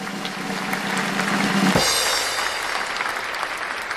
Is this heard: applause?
yes